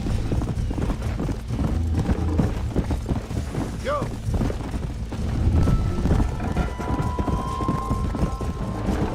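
Horse hooves clip-clop at a steady pace in the video game Red Dead Redemption 1 on PC, close and continuous over busy game ambience.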